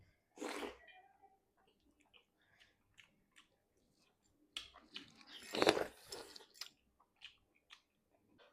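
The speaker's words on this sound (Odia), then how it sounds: "ଏଇ ବାଇଟ୍ଟା ବଢିଆ ଲାଗିବ ଖାଇବା ପାଇଁ।" Close eating sounds of jackfruit and fish curry with rice, sparse crunchy bites and chewing in a few bursts separated by quiet pauses, with a short breathy sound early on.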